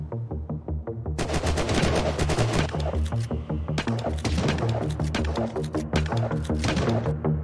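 Shotgun fire in a multiplayer survival video game: heavy blasts follow one another in a fast, relentless stream, loud and close, with little else audible.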